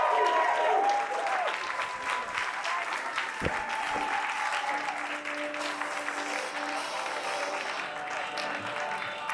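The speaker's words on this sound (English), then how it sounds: "that's why the crowd is cheering" Crowd at an election night rally for a Nanaimo byelection, cheering and applauding steadily throughout, a dense sustained roar with whistles, under an announcer's voice over the noise.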